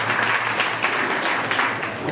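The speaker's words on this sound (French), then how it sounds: "Je vous demande donc d'applaudir" Audience applause at a high school literary café event in Dahra, a steady dense wash of clapping filling the whole stretch without a break.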